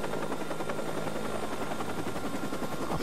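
Helicopter in the video game Watch Dogs, a steady close rotor drone with rapid chopping texture that fills the whole stretch without pause, loud and continuous, with no talking.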